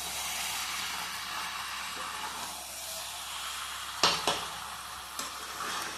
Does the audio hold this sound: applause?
no